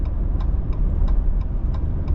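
The engine of a 2025 RAM 1500 Hurricane runs with a low rumble as its fuel runs out, broken by faint, regularly spaced ticks and sputters.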